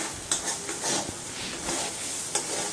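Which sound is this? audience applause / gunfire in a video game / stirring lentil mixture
stirring lentil mixture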